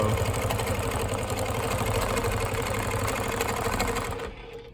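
A longarm quilting machine stitches continuous diagonal crosshatching with ruler work, humming in a fast, even drone close by before winding down and stopping at the end.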